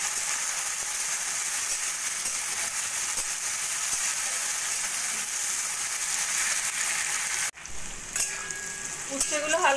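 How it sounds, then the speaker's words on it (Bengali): Bitter gourd and potato frying in a pan, a steady dense sizzle that holds loud and even before dropping briefly, then returning with lighter crackles and faint stirring. "এবার উচ্ছে আলু আমি 2-3 মিনিট মতো একটু ভেজে"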